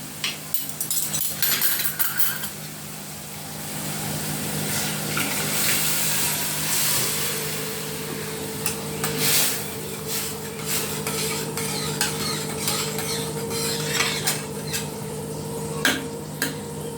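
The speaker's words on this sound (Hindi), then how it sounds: "अभी हमारा दाल डाल देंगे हम।" Dal hits hot spiced oil in a pan during dal baati cooking, giving a sustained hiss and sizzle with scraping stirs and occasional utensil clinks, settling into a steady simmering hum.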